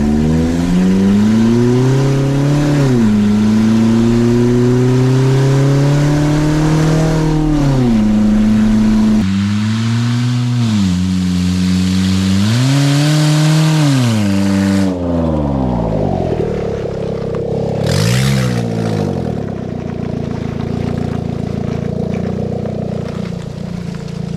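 A loud Hyundai Tucson engine revs repeatedly through a cut flex pipe, pitch rising and falling in surges, with a raw, rumbling exhaust; the later part drops to a rougher idle.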